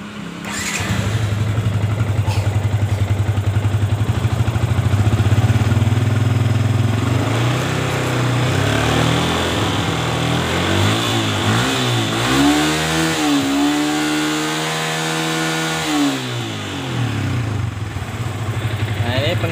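A Yamaha Vixion motorcycle with a draining battery and fault code 46 idles loudly close by, then revs in several rising and falling throttle blips before settling back, with someone talking over the engine.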